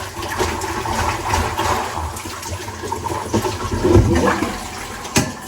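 Water runs steadily from a shower-type spray over cabbage being rinsed, a continuous rushing stream with a few louder splashes toward the end.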